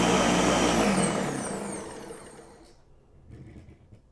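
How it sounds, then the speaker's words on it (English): A loud, whirring motor roars at first, then winds down and fades over a few seconds into quiet rattling. "while the blender is making a bunch of noise"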